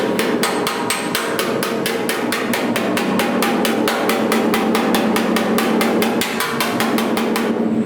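Rapid, steady metallic hammer blows on a dolly as a dent in a car body panel is tapped back down, about three to four sharp ringing strikes per second, close and loud, with no talking.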